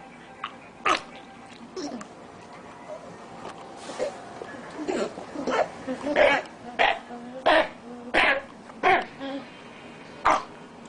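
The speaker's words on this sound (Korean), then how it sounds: "마치 사람에서처럼 가래를 뱉으려 하거나 삼키는 모습과 같은 특기적인 기침이 나타나게 됩니다." A dog with infectious bronchitis gives a run of harsh, hacking coughs, like trying to bring up or swallow phlegm, repeating in short bursts that grow denser midway through, close and fairly loud.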